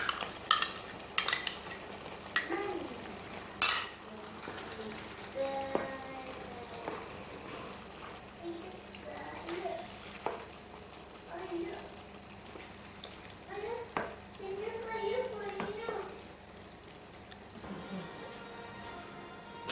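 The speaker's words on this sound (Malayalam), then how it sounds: "അപ്പം ഇനി ഇതിലേക്ക് ഹൈ ഫ്ലെയിമിൽ വെച്ചിട്ട് നമ്മുടെ തൈരില്ലേ, യോഗട്ട് ചേർത്ത് കൊടുക്കുക." Yogurt stirred into a curry on high flame, with scraping spoon and utensil clicks, light sizzling and occasional drips, a few sharp knocks against the pan, and faint tonal voice-like sounds in the background.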